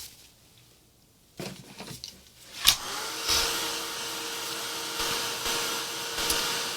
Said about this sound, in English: heat it with the heat gun